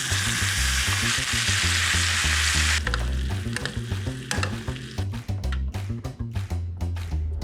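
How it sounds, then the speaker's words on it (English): Steak sizzles and fries loudly in a hot pan, a dense steady hiss that thins after a few seconds into crackling pops and spits with occasional stirring or scraping noises. "Steak's been going for like 7 or 8 minutes now. I'm gonna give it a flip and start that butter paste."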